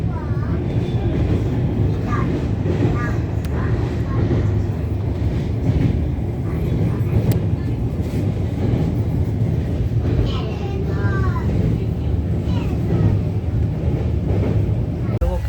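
A passenger train on the Kolkata to Lucknow route rumbles continuously near the Ganga, a dense steady roar with rattling and faint squeals from the cars, heard close from on board.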